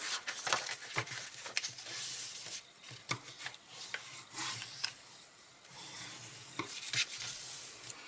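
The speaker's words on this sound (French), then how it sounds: "Nous allons ensuite marquer nos plis avec notre plioir en os." A bone folder creases folds in paper with quiet rubbing and scraping strokes, short rasps and light taps spaced irregularly, close and soft, with no talking.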